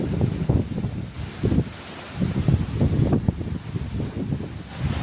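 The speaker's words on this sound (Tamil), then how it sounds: "பாருங்கள், மழை நல்லா காற்றடிக்குது," Strong wind roars and gusts against the microphone in a steady, low rushing wash, with a constant hiss like rain behind it.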